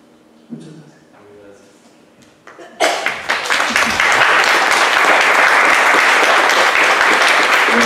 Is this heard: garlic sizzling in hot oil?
no